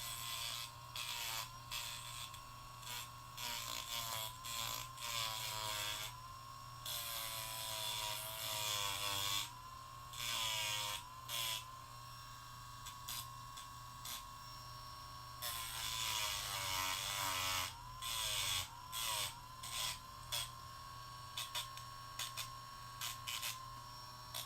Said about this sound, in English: we're going to drill just a little bit off of here.